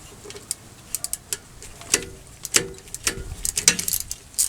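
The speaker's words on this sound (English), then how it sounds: "you can just put an open-end wrench on there." Metal wrench clicks and ratcheting ticks from loosening a slide pin bolt on the single-piston rear brake caliper of a 2004 Chevy Silverado, a close, irregular run of sharp taps with no talk.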